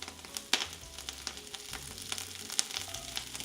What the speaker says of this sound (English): throw in your Brussels sprouts. You should hear a nice little sizzle on there.